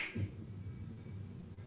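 A single crisp finger snap sounds close at the very start, followed by low background hum with no talking.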